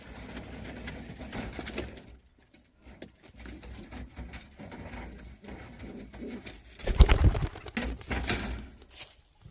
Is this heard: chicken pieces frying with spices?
no